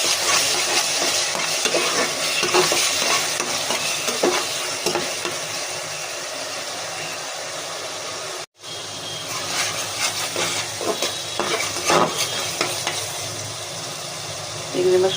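Shrimp with ginger garlic paste fry in a pan, giving a continuous sizzle broken by repeated scraping stir strokes and utensil clinks. The sound is close and fairly loud, with a brief gap partway through.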